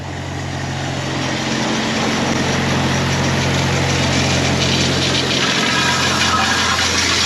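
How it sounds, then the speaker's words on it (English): A Farmall 400 tractor engine runs steadily outdoors while the driveway is cleaned up, giving a loud, continuous low rumble that holds the same level throughout, with no voices. "out here with the Farmall 400"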